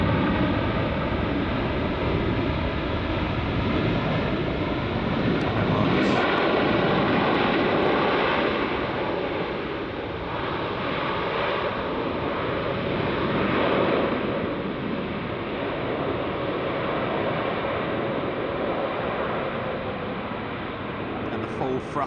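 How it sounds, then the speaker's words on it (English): An American airliner landing at Heathrow Airport with thrust reverse applied, a steady loud broadband engine roar that swells and holds for many seconds, with a commentator talking over it. "Thrust reverse there by the American pilots"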